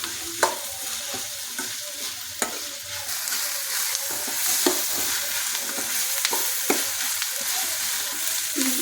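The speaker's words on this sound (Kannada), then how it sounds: "ಈರುಳ್ಳಿ ಬ್ರೌನ್ ಕಲರ್ ಬರುವವರೆಗೂ ನಾವು ಫ್ರೈ ಮಾಡ್ತಾ ಇರಬೇಕು" Onions fry in a pan for onion pallya with salt and turmeric, giving a close, continuous sizzle broken by regular sharp spatula scrapes and taps as they are stirred, with no voices.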